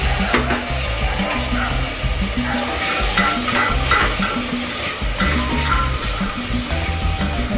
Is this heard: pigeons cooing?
no